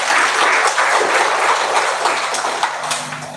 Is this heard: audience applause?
yes